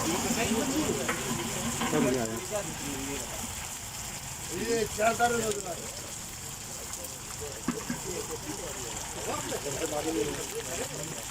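Carrots and vegetables fry in hot oil for a mixed vegetable rice pilaf, producing a steady crackling sizzle with stirring noises, and a voice talks over the cooking.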